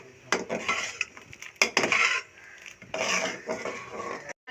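Okra masala with red chili powder, chili flakes and salt is stirred and roasted in a pan. A spoon scrapes and clatters against the metal in close, uneven bursts over a soft sizzle.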